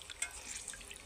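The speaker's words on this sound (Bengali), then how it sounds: "তোমরা দেখো ধুয়ে নিচ্ছি ভালো করে" Water rinsing washed fish or meat in a brief, soft splashy trickle with small drips, close but faint.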